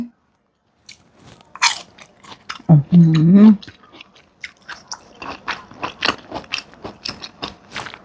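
Someone bites into crunchy pickled madan fruit, with a sharp crunch and short chewing sounds close up, followed by quiet talk and a scatter of small mouth clicks.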